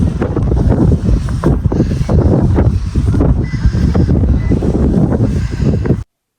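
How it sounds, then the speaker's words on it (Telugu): Strong, cold wind at an outdoor tulip farm in Preston, Connecticut buffets the microphone with loud, gusting rumbles and roaring bursts for several seconds before cutting off abruptly. "విండ్ చాలా ఎక్కువగా ఉంది."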